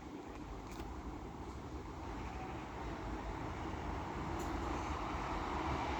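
A Class 150 diesel multiple unit passing through Castleton station, a steady broadband rumble of engine and wheels that builds gradually and holds close and loud throughout, with no talk.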